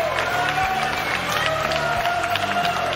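Spectators applaud and cheer a newly crowned 185-pound champion at a fight event, a dense, continuous wash of clapping and crowd noise with a steady tone running through it.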